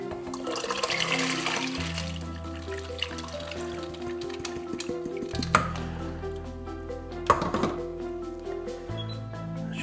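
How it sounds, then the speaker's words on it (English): Wheat grain being poured into a pan with water while being prepared as fishing bait: continuous close watery pouring, sloshing and dripping, with a few sharper splashes along the way. "Let's get the wheat into the pan."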